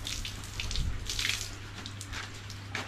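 Water is poured and splashed over a waterproof bike cover, giving a soft, continuous patter and trickle with brief louder splashes, close and fairly quiet, with no speech.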